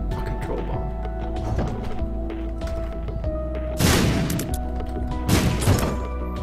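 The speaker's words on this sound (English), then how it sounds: "Fucking troll bomb." Troll bomb explosions in The Binding of Isaac: two sharp, loud bursts stand out over busy game sounds and music, the first at mid-clip and the second shortly after, each a quick crash-like boom.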